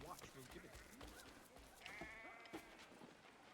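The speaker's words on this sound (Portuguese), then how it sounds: "Ovelhinha." Sheep bleating in the video game Assassin's Creed 3, several soft bleats over a busy game soundscape while someone speaks Portuguese throughout.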